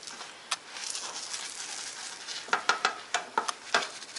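Eggs fry quietly in a pan with a soft, steady sizzle, punctuated by a few light clicks and taps of a utensil against the pan toward the end.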